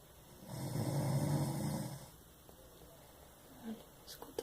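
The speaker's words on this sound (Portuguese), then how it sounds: "Ronca demais." One long, loud, rumbling snore from a sleeping person fills the first half, then it fades into quiet breathing with a few small sounds.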